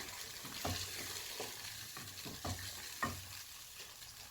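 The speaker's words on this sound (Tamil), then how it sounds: "தண்ணி ஊற்றி நல்லா மிக்ஸ் பண்ணிவிட்டு" A utensil scrapes and stirs water into chicken curry in a sizzling pan several times at an unhurried pace, with a soft steady hiss beneath each stroke.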